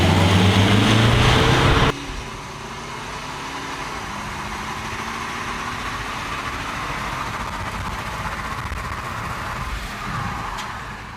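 Two cars, a Toyota Corolla GR Sport and a BMW 1 Series M Sport, launch in a drag race: a loud engine roar cuts off abruptly, leaving a steady, rushing drone of moving cars for the rest.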